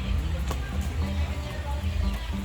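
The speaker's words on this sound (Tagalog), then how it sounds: "Andun ang mga manok ni Bimbo." Chickens cluck intermittently nearby over a steady low background hum, with short repeated calls scattered throughout.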